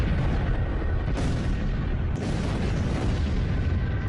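A massive fireball exploding in the air above Siberia's Tunguska forest, heard as a loud, sustained deep roar and rumble with broad rushing noise and a couple of heavier surges, continuous throughout.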